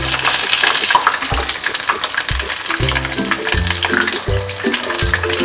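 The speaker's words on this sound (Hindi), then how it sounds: "गोल्डन ब्राउन होने तक हमें डीप फ्राई करना है।" Paneer pieces deep frying in hot oil, a steady broadband sizzle running throughout, with a low rhythmic stirring or bubbling motif underneath.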